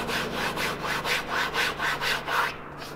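Hand sanding on a rough hardwood-faced plywood cabinet drawer, a close, steady back-and-forth scrubbing in about ten even rhythmic strokes with no voices.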